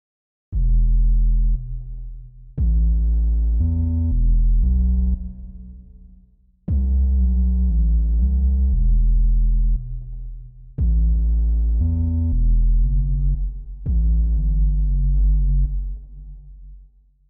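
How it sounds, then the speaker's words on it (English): A MIDI bass line from a self-made track in the style of Tim Henson plays alone: five sustained, deep synthetic notes in a steady phrase, each starting sharply and holding loud before the next begins, with short gaps between. "Only thing left is the bass line, which I added in MIDI, which just sounds like this."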